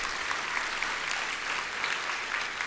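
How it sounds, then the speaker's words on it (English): An audience applauds a speaker at the 2023 Georgia Faith and Freedom Coalition event, a dense, even clapping that holds steady at moderate volume throughout with no talking. "I'll take a round of applause."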